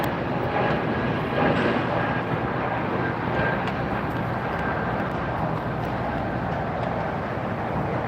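An Emirates airliner at LAX airport produces a loud, steady jet engine roar that holds evenly throughout, with no voices.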